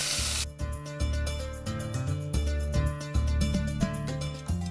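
Brinjal (eggplant) pieces dropped into hot oil in a pan for Vangi Bath, a loud burst of crackling sizzle at the start settling into steady frying hiss, with some background music throughout.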